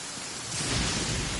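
Rain and thunder in the video game Genshin Impact: steady hissing rainfall joined after a moment by a deep rolling thunder rumble that swells and holds, with no talking.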